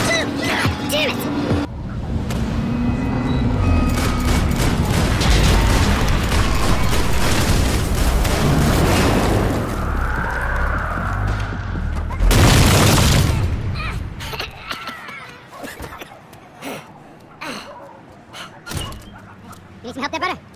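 Dense gunfire and booming explosions from a Max Payne 3 firefight fill the first half loudly, then thin into scattered shots and thuds while characters shout.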